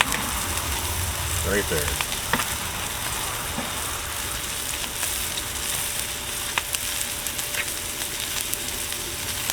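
A sous vide cowboy ribeye steak being reverse seared on a Blackstone griddle, giving a steady, fairly quiet sizzle and frying hiss throughout, with a few small clicks and someone speaking briefly over it.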